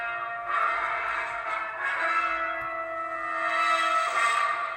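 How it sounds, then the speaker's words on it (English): A Proffieboard lightsaber with an Imperial Knight sound font igniting with a rising electronic hum that settles into a sustained, resonant drone, loud and close, with a shift in tone near the end. "that's the boot up sound for the Imperial Knight font"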